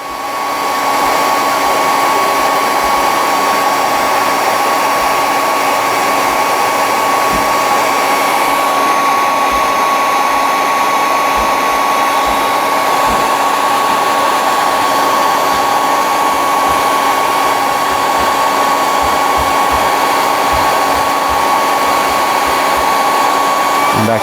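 A heat gun blows hot air onto model kit resin parts for a 1/72 Sinanju, a steady, loud, continuous whoosh with a constant whine and no talking.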